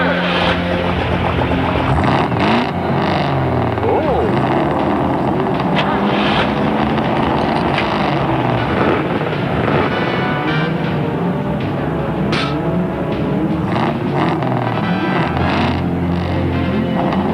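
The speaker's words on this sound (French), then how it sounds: "Faites démarrer les moteurs." Formula One race car engines in an animated cartoon start up and rev, with overlapping whining, rising and falling engine tones that sound loud and close throughout.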